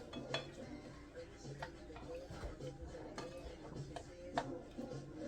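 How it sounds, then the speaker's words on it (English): Peppers tipped into a pan of shrimp for keto pasta, giving scattered clinks and clatters of pan and utensil at low volume, with soft sizzling and stirring between the hits. "So I'm just going to go ahead and dump my peppers in with it"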